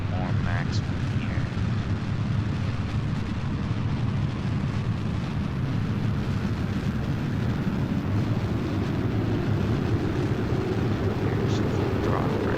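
A video game rocket engine throttles up while leaving the atmosphere, a loud continuous low roar with steady rumble filling the whole stretch, with a voice talking over it.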